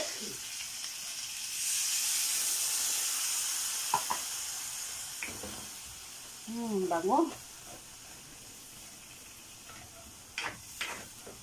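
Adobong manok with saba cooking in a pot over low heat, a soft steady sizzle and hiss of simmering liquid, with a few clinks of utensils and a brief voice speaking nearby.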